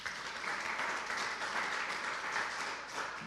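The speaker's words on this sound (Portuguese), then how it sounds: "Aplauda o Senhor." Church congregation applauds during a sermon, an even, sustained roomful of clapping heard at moderate distance and held steady throughout.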